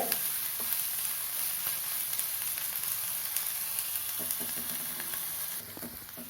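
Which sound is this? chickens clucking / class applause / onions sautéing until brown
onions sautéing until brown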